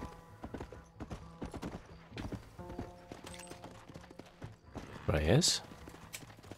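Horse hooves clip-clop steadily through the Red Dead Redemption video game, running as a rhythmic series of close thuds under soft-spoken talk, with a brief louder whinny-like burst near the end.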